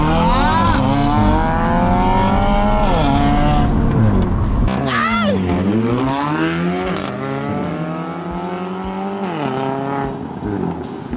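A car accelerating hard in a street race, its engine roaring loud and close as it climbs through the revs with several gear changes and dips, staying prominent throughout.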